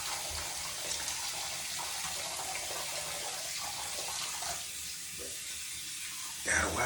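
Tap water running steadily into a sink during face washing, a continuous hiss near the microphone, with some splashing and a clatter near the end.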